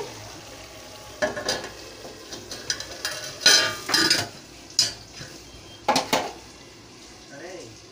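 A plate used as a lid set over a pan of cauliflower and egg curry, with a series of sharp metallic clinks and clatters, a few louder knocks among softer scraping, close by in a quiet kitchen.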